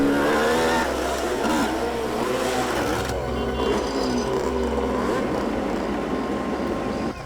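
A motorbike arriving in a CID crime drama scene with bikers behind bank heists, its engine a loud, steady revving drone that holds and then eases slightly as it pulls up, with background music.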